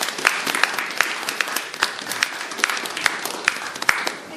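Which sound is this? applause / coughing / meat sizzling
applause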